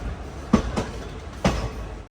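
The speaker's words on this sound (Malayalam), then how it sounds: "ഈ കാണുന്നത് മാവേലി എക്സ്പ്രസ് ആയത്," Maveli Express train running Mangaluru to Trivandrum approaching a station platform, a steady rumble of wheels with a few sharp clacks over the rails.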